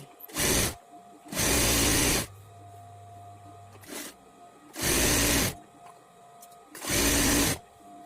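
Sewing machine stitching strips for a blouse, running in four short close bursts separated by quiet pauses, with a faint low hum in one gap and no speech.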